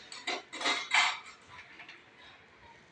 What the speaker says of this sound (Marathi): झाकण काढून पुन्हा एकदा आपल्याला भाजी छान अशी हलवून घ्यायची आहे.